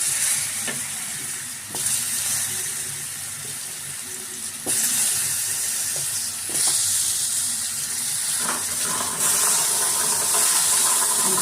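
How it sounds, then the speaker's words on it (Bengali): Potatoes frying in hot oil after fish, for a Bengali fish curry, give a steady loud sizzle and hiss with occasional clinks of stirring, no talking. "এবারে ওই তেলে আলুগুলো দিয়ে দিলাম।"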